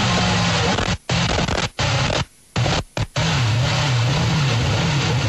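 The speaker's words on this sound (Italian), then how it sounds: "questo è il motore di Grosjean che praticamente dice addio al Gran Premio di Valencia" A loud, harsh Formula 1 car engine roar with a wavering low drone, broken by several abrupt dropouts where the sound cuts out almost completely before resuming, as the engine fails during the 2012 European Grand Prix in Valencia.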